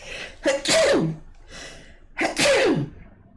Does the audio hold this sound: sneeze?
yes